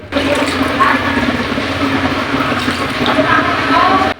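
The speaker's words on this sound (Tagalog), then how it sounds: "Sunod naman natin itong lagyan ng tubig para pakuluan itong karning baboy." A steady rush of water pouring into a cooking pot of pork, loud and close, running continuously for a few seconds before stopping.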